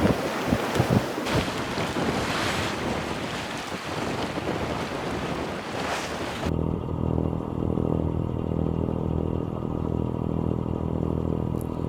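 A sailboat runs quickly through the water in strong wind near Portsmouth Harbour, with loud, constant rushing wind buffeting the microphone and waves washing along the hull, shifting to a steadier low rumble partway through.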